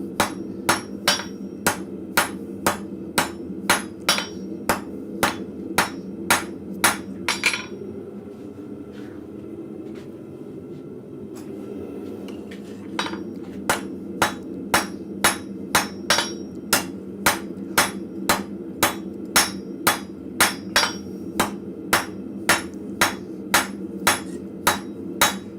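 A blacksmith hammers steel on an anvil to draw it out, giving sharp, evenly spaced ringing blows. The strikes pause for a few seconds midway, with a low rumble underneath, then resume at the same steady rhythm.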